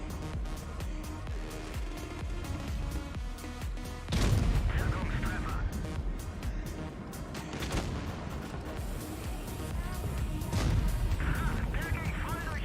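Tank cannons firing in a World of Tanks Blitz tournament match, with constant battle clatter and rumble throughout. Two heavier booming shots stand out, one about a third of the way in and another near the end.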